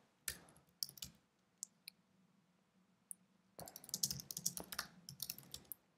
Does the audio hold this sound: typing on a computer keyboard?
yes